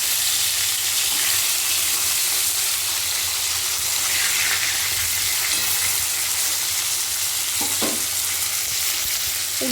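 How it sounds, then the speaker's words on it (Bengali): Fish fries in a pan for a Bengali fish curry after being flipped to brown the other side, giving a loud, steady sizzle and crackle throughout with a few sharper spits. "উল্টে দিয়েও কিন্তু অন্য দিকটাও খুব ভালো করে ভেজে নেব।"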